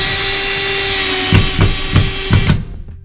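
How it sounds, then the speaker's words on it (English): Self-drilling screws driven into the sheet-metal body of a van during a DIY camper conversion, under a steady power-driver whine: four or five short, close, rhythmic bursts of grinding as each screw bites and drills into the metal. "if you push them into the metal, they start drilling"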